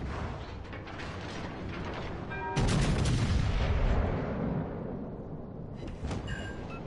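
A main-gun salvo from the Richelieu battleship in World of Warships booms loudly and rolls off over a few seconds, preceded by mechanical clanking and followed by a smaller sharp burst.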